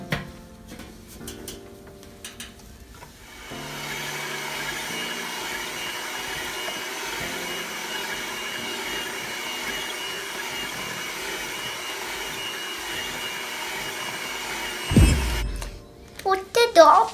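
An electric mixer works sugar cookie dough after flour is added, giving a steady whirring drone that lasts over ten seconds. Clattering and a voice come before it, and a clunk and more clatter follow when it stops.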